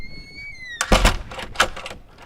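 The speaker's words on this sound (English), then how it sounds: "this door is now closed" A classroom door at a high school under construction swings shut with a solid thud and latch clatter, followed by a second softer knock, close by over a faint electronic beeping.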